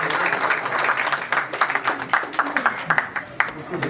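An audience at a gathering of crime and court journalists in Rawalpindi–Islamabad breaks into brisk applause, close and fairly loud, with individual claps standing out as it rises and trails off.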